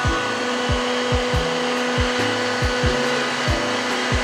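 A heat gun blows hot air steadily onto an engine part in a G80 BMW M3 engine bay, a loud continuous whooshing hiss with a faint repeating low thump beneath it, with no talking.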